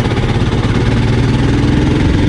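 A Royal Enfield Scram 411 motorcycle engine cruises in fourth gear, giving a loud, close, steady single-cylinder thrum with a constant low pulse and no change in pace.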